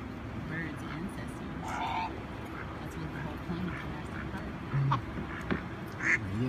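Ducks quack in short, harsh calls over a busy, steady background, with a few louder honking quacks near the end while people talk throughout.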